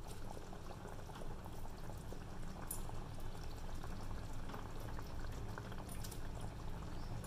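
Fish curry simmers with a steady low bubbling and gurgling as fish pieces go into the pot, a constant liquid boil with no voices.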